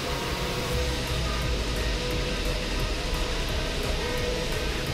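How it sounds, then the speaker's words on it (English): A loud outdoor fountain at a shopping and car-showroom complex in Japan, its water roaring as a steady, dense wash of broadband noise that stays constant from start to finish, close and unbroken, with no talk over it. "The fountain's really loud."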